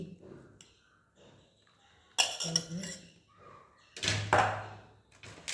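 Dishes and cutlery clink in short bursts while a Kerala-style rice meal with sides is served, the clatter coming close and fairly loud at moments, with some background speech between.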